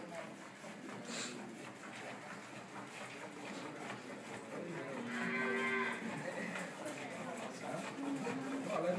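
A Montbéliarde 7/8 crossbred dairy cow born in Mali lows once in a long, steady moo partway through, set against continuous barn or farm background noise.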